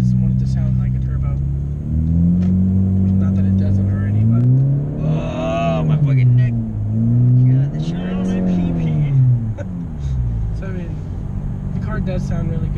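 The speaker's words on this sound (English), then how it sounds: "Does sound really good with the straight pipe exhaust." A 2017 Honda Civic 1.5 turbo with a muffler-less straight-pipe exhaust revs up and down in several swells over a deep, loud, throaty idle, close by.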